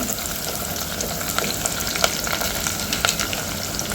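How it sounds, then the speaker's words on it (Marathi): Onions and green chillies sauté in a pan as the onions soften toward pink, a loud, dense, continuous sizzle close up with occasional crisp spatters and no talking. "छान परतून घ्यायचं आहे आपले हे कांदे छान गुलाबी द्यायचे आहे मऊसर"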